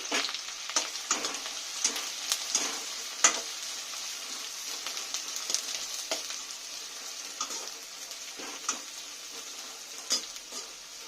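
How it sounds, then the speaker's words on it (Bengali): Onions frying in oil with a soft, steady sizzle, broken by occasional scrapes and taps of a spatula stirring the pan. "পেঁয়াজ লাল লাল করে ভেজে একটু তুলে নেব"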